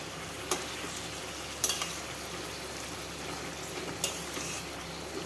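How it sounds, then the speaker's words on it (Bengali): Mutton with a tomato sizzling and frying in a pan for hing mutton, a steady soft crackle with a few sharp clinks of the spoon against the pan as it is stirred. "দেখুন সাবধানে আমি নেড়ে দিচ্ছি।"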